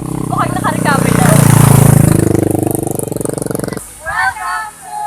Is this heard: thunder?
no